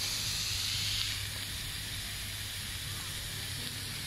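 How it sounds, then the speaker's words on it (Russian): Cheap beef frying on a picnic grill beside a bay, giving a steady, fairly faint sizzling hiss that runs without a break the whole time. "Все, начали готовку жарить."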